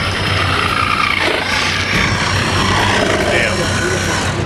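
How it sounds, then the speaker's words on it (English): A rescue helicopter arrives at a snowy Alaska crash scene, its loud, steady rotor and engine roar filling the air while people speak over it. "A rescue chopper arrives to transport the victim to a trauma center"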